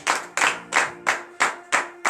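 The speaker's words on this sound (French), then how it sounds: "donnez de vive acclamation à l'Éternel" A church congregation at a morning prayer in Comè, Benin, claps in acclamation. Hands strike together in a steady rhythm, about seven sharp beats, close and loud, with a faint voice underneath.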